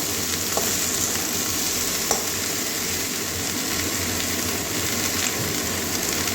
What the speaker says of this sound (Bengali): এবারে ধুয়ে রাখা আলু আর কুন্দ্রিটা দিয়ে দেবো এবারে ভালো করে কষিয়ে নেবো